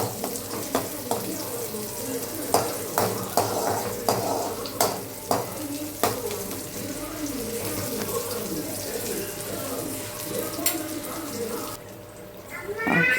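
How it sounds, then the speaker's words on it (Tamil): Steady sizzling of onions sautéing in a pan with repeated scraping strokes of a spoon stirring, fairly close, while a voice talks over it in Tamil. "நல்லா வதங்கின வரைக்கும் கிண்டி விட்டுட்டே இருங்க."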